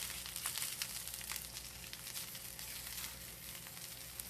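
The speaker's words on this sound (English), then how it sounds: "You can hear the sizzle of that hot pan." Broccoli sizzling in a hot pan with sesame oil over medium-high heat: a soft, steady frying hiss with scattered crackles, faint and unbroken.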